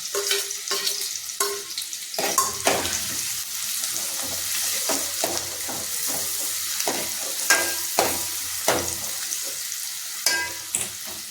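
Garlic hits a hot pan of oil while cooking kadadhanyachi usal, a spiced legume curry, sizzling and frying steadily throughout with repeated clattering stirs of a spoon against the pan.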